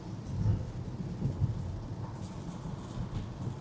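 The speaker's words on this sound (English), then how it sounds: "But we do have the rain" Rain drums on a Tesla driving on FSD, a steady low rumbling wash of drops and road noise from inside the car, close and continuous, with no talking.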